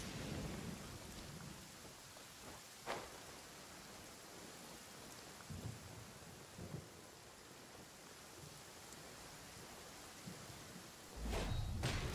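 Steady rain and rumbling thunder of a thunderstorm with lightning in the Genshin Impact video game, with a few distinct thunder cracks and a louder burst near the end, no voices.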